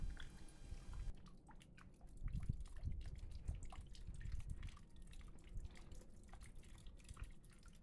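Water trickling and dripping from the outlet of a homemade rock waterfall, a faint, close patter of irregular drips over a soft continuous flow.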